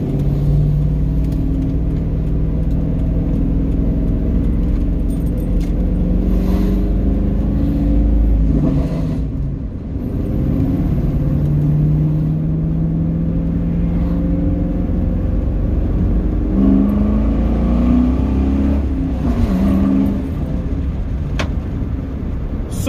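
A 1999-2004 Mustang GT V8 with a short throw shifter pulls hard through the gears from inside the car, a loud steady engine rumble rising in pitch, dipping at shifts, then climbing again.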